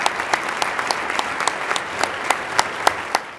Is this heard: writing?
no